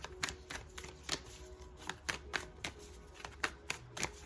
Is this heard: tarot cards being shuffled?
yes